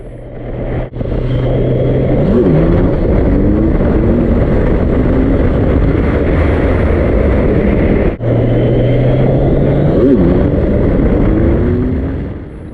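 A fast new motorcycle ridden on an open road, its engine droning loudly and continuously with rising and falling revs through gear changes, plus steady wind rush and two brief dropouts, no talking.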